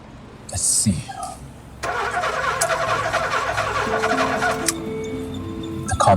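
A car with a low battery cranks repeatedly without catching, a continuous starter whir with clicking that runs for several seconds before cutting off, heard close up after a short burst of other noise at the start.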